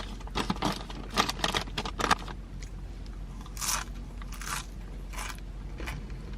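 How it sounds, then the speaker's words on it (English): Crushed Doritos and a little rice are eaten with a fork, with close, crisp crunching bites in uneven bursts, a few clinks, and quieter chewing between them. "some of the bites I feel like I'm just eating crushed up Doritos with a fork with like a little bit of rice"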